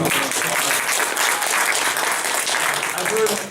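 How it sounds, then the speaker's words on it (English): Audience applauding after a presentation, a dense, steady round of clapping filling the room at moderate loudness from start to finish. "Please give it a round of applause."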